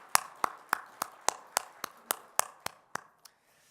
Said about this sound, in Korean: 우리 기도와 찬양과 우리 영광을 받으신 하나님께 다시 한번 박수 올려드릴까요?